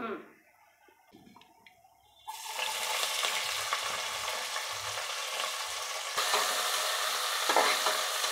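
Onions fry in oil for a Nellore-style chicken biryani. After a quiet start with faint talking, a steady, close sizzle with stirring takes over and keeps going to the end.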